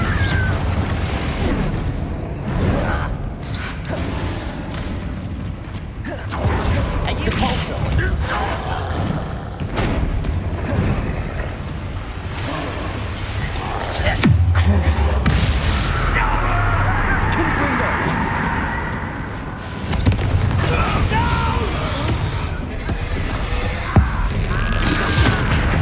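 Confringo blasting curses go off in Hogwarts Legacy combat: repeated booms, thuds and crackling blasts scattered through a long, busy stretch of battle noise, some louder hits standing out midway.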